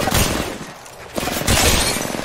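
Rapid hip-fire bursts from a gun in Apex Legends, two loud close volleys separated by a brief lull, with a crackling, shattering edge.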